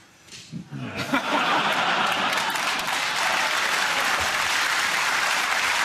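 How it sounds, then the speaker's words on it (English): Studio audience on a British comedy panel show breaks into applause in staggered waves, a few claps starting first and then building into loud, sustained clapping with a few chuckles mixed in. "I love the way that they clapped at different times, as depending on how quickly they got it."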